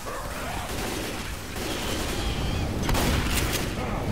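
Dense, continuous gunfire from a zombie shooter, Left 4 Dead 2, with rapid shots blending into a steady loud roar and a sharper burst near the end; voices talk over it.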